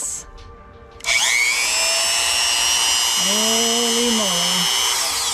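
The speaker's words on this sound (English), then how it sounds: "I've just plugged in my Dremel into this just to see if it works" A Dremel rotary tool powered from a van's electrical inverter starts with a sudden whine and runs steadily at high speed, close and loud, with a brief spoken exclamation over it.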